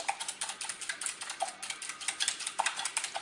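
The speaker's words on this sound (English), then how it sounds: "I got my eggs and I got a little whisk, and I'm just whisking away" A small whisk beats eggs in a bowl with quick, rapid metallic clicking at a steady tapping rhythm, close and fairly quiet.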